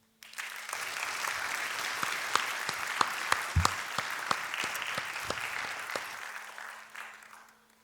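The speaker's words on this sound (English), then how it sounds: "Can we please take a moment and give our parents a round of applause?" Audience applause for the parents at a school graduation ceremony, steady clapping with a few sharp individual claps standing out, rising quickly and fading out over several seconds in a large room.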